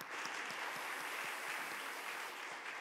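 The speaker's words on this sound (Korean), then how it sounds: "우리 하나님께 영광의 박수로 찬양드립니다." Church congregation applauding during a Sunday service, a steady, dense wash of clapping holding evenly throughout at moderate distance, with no voices over it.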